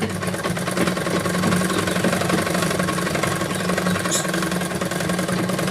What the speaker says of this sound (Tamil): அதாவது இங்கேருந்து ஸ்டார்ட் பண்ணி இந்த ஓப்பன் சைடு மட்டும் அப்படியே விட்டுருங்க